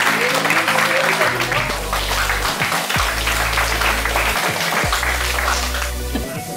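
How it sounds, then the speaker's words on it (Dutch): Guests clap for Erwin at his farewell party in Ede, a lively round of applause mixed with chatter and deep, throbbing music bass pulsing in long stretches underneath. "Dus, ik mag even een applaus voor Erwin."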